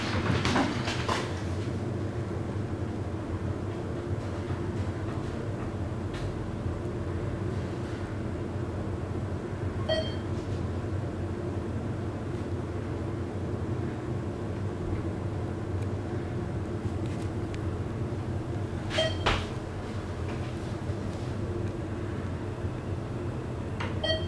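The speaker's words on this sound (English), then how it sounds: "These are the main parking elevators at the Chevy Chase Pavilion in Northwest Washington, D.C." A ThyssenKrupp hydraulic parking elevator at the Chevy Chase Pavilion garage in Washington, D.C. runs with a steady low mechanical rumble and hum, broken by a few sharp clicks and clunks from the car.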